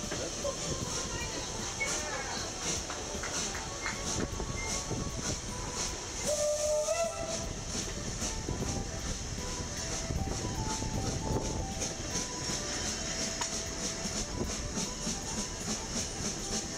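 A Manx railway train running on a small island line, its steady rumble and hiss continuous throughout at close range, with a brief squealing whistle-like tone midway and voices faintly mixed in.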